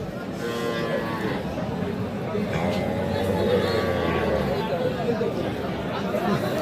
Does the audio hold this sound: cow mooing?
yes